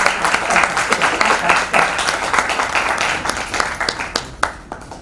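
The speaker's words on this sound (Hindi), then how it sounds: "अब मैं जोरदार तालियों के साथ आमंत्रित करना चाहूंगी लक्ष्मी" Enthusiastic applause from a crowd at the Kalam Bhubaneswar event, dense clapping that holds steady for several seconds before thinning out slightly.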